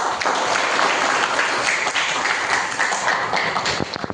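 Sustained applause from a sizable crowd, dense and steady clapping filling the whole stretch, with a few sharper claps standing out near the end.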